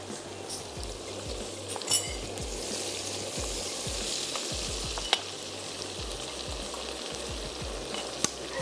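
Garlic ginger paste and tomatoes frying in a pot for handi kabab, a steady close sizzle broken by soft stirring scrapes and a few sharp knocks.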